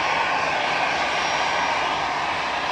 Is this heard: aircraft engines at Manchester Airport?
yes